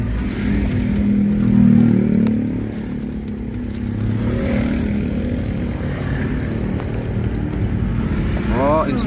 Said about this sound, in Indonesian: di depan ada motor nggak kuat nanjak sepertinya